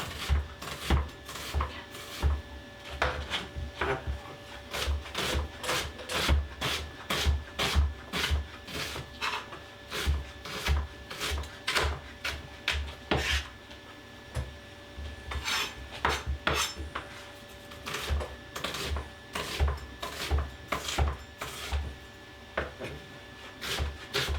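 A knife chops an onion on a wooden board, giving a long, steady series of crisp, close chopping knocks and scraping cuts in a brisk, fairly regular rhythm with no talking.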